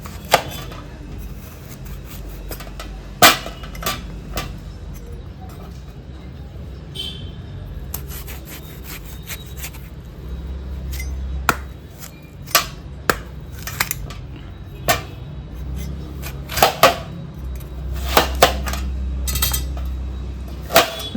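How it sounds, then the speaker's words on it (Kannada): Raw mango is chopped with a knife on a board for mavinakayi rasam, giving a series of sharp, close chopping knocks, sparse at first then quicker and more frequent, with light scraping in between and no speech. "ಕಟ್ ಮಾಡ್ಕೊಳ್ಳೋಣ ಮಾವಿನಕಾಯಿನ."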